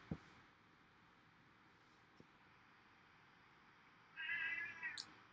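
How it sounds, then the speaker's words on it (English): A house cat gives one loud, drawn-out meow near the end, heard against a quiet room hum with a couple of faint clicks earlier. "that is obviously my cat saying I need to go"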